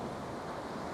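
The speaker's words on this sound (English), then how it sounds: "You can probably hear the sea behind me crashing in on the pebbles." Sea waves crash onto a pebble beach in a steady, dense wash of surf, loud and close, with some wind noise on the microphone throughout.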